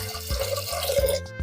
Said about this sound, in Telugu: ఇప్పుడు మంచి వాటర్ వేసేసుకుందాము